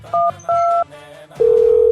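Three short electronic keypad beeps sound in quick succession as a mobile phone dials, then a steady tone comes on.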